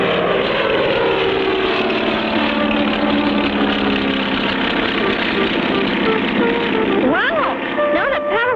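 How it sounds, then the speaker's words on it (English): A propeller airplane in a cartoon drones loudly and steadily, its engine hum constant and close, with a few brief chirpy sound effects near the end. "hop into the plane with Spinner and Paddlefoot, and speedily start on a journey."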